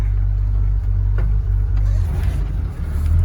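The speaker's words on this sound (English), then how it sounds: "So, take her for a little drive, then I'm gonna pull it into the shop." A 1986 Ford F150 4x4 pickup is driven with a steady, loud low engine drone from inside the cab and slight changes in pitch as it moves along.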